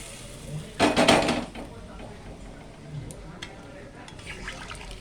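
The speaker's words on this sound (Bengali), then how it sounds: "জলটা আমি সেদ্ধ করেছিলাম প্রেসার কুকারে, সেই জলটা আমি দিয়ে দিলাম।" Water boiled in a pressure cooker splashes and pours into a cooking pan in one brief loud burst, followed by quieter kitchen noise and faint voices.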